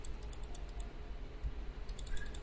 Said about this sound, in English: That's me spamming the tree cut button.